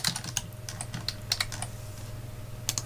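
Code is typed on a computer keyboard in sparse, irregular clicky keystrokes spread through the moment, close and fairly quiet over a low steady background hum.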